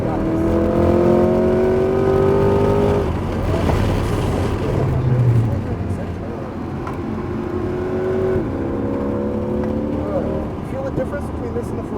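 A Chevrolet Corvette C8 Z51 accelerates around the Homestead Miami Speedway track, its engine note rising strongly, easing off, then climbing again, loud and close from inside the cabin while people talk over it.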